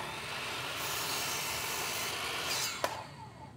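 Power saw cutting 3.6-metre timber battens for a pergola, a steady rasping whine held for a few seconds and ending in a short sharp clack, fairly quiet and without speech.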